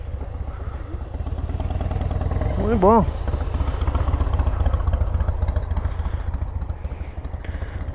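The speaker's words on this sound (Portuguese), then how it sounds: "Olha aí, galera de scooter aí." Motor scooter engines, including a Honda PCX 350, hum steadily nearby in Uspallata, Argentina, while people talk, the buzzing drone rising slightly as the bikes move along.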